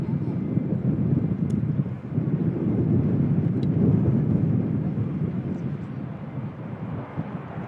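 A propeller aircraft at Manchester Airport, its engine drone a steady broad rumble at moderate distance, with wind noise over the microphone.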